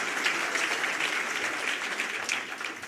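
An audience at a BJP state office event marking Dr. Syama Prasad Mukherjee's sacrifice day gives a steady round of loud applause for the Prime Minister, sustained clapping throughout.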